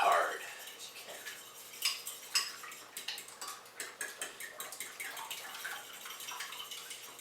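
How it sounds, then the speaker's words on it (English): Eggs being whipped fast and hard in a bowl for breakfast, giving rapid irregular clinks and taps of utensil on dish that stay close and fairly quiet, with a voice talking at times. "begin whipping your eggs as fast and as hard as you can"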